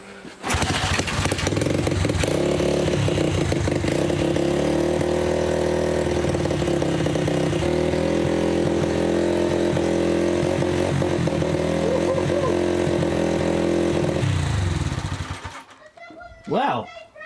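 A small pit bike engine roaring at steady high revs for about fifteen seconds, loud and close, buzzing harshly before cutting off abruptly, with brief voices afterward.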